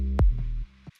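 Short electronic kick with a Moog Sub 37 mono synth bass, a single thump over a deep sustained bass note that cuts off, alone.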